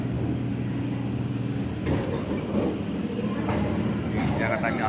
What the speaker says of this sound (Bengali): গঙ্গার পাশ দিয়ে ট্রেনটা যাচ্ছে।